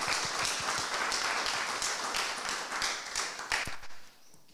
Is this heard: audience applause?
yes